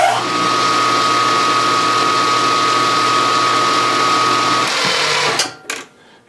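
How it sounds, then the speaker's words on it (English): Steady whirring lathe drone with a thin high whine runs for several seconds while a short center drill bores into metal, then winds down, followed by a couple of metallic clicks. "I can get down there with my short center drill"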